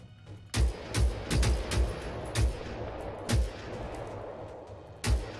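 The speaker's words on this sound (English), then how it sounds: "I'm gonna switch to the other rifle" Rifle gunfire in a forest video game, a series of loud, booming single shots spaced irregularly over a continuous ambient background, with no talking.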